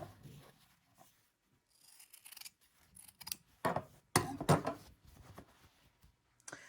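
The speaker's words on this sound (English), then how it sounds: "I'm just going to go ahead and trim corners. And trim that seam allowance." Scissors snip through fabric to trim corners and seam allowance on a slot zipper sewing project, a series of close, crisp cuts spaced out irregularly, growing louder in the middle.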